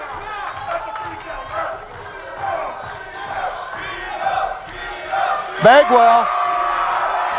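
A wrestling arena crowd at an XWF match roars and cheers for Buff Bagwell, a steady loud swell with shouts rising near the end, under a commentator's talk.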